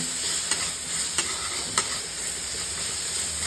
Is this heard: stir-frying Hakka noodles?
yes